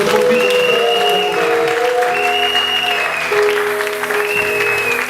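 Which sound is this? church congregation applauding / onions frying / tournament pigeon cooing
church congregation applauding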